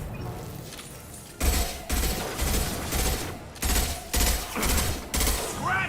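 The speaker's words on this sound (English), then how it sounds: "Firing concussive shot." Concussive shots and gunfire from Mass Effect 2 Legendary Edition, a series of heavy, rhythmic blasts roughly every half second under faint game ambience, punchy and close with a whooshing tail at the end.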